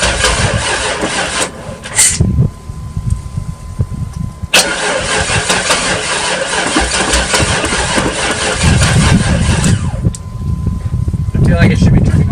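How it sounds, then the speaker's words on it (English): A 1996 Chevy Tahoe engine cranks in bursts, loud and close, then catches and runs with a rough mid-pitched roar. The cranking and running continue for most of the stretch, and people talk nearby. "She's gonna crank over good this time, I'll tell you that much."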